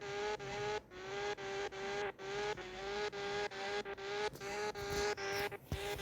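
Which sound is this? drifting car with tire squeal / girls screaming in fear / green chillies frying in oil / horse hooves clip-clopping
drifting car with tire squeal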